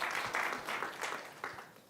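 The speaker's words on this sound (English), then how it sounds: "Give Ron a round of applause." Applause honoring the late Congressman Ron Dellums at a Barbara Lee district event: a short burst of clapping from a crowd, swelling and fading in waves for about two seconds, fairly distant and even.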